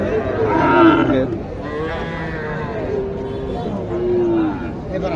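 Sahiwal cattle at a busy livestock market in Naogaon district low and moo repeatedly and loudly at close range, with several drawn-out calls over the chatter of a crowd.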